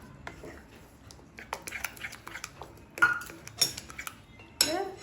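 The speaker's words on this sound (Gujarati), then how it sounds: "એકદમ એને હલાયા જવાનું, નહીંતર ફાટી જશે." A spoon stirs curd in a metal cooking pan, giving faint, irregular scrapes and clinks against the pan that grow a little louder and busier toward the end.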